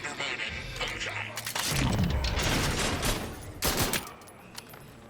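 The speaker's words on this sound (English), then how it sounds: "gunshot." Rapid bursts of gunfire in the video game Outer Worlds 2, loud and clustered, rattling through a busy mix of other game sounds, with voices partly underneath.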